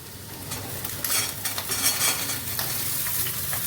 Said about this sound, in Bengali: এবারে ঝিঙেগুলো আমি একটু ভাজা ভাজা করে নেবো